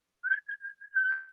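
A person whistles a short, bouncy, tune-like phrase imitating the Harlem Globetrotters theme: four quick clear notes and then a longer held note, close and clean with no other sound.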